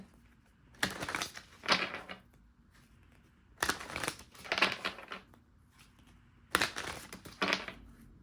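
Oracle cards being handled and shuffled during a tarot reading, three separate bursts of crisp papery riffling and rustling, close and fairly loud, with quiet gaps between them.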